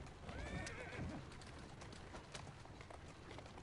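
A horse in the video game Assassin's Creed Syndicate whinnies with a rising, wavering call early on, followed by quieter stable sounds and soft clip-clopping, all fairly faint.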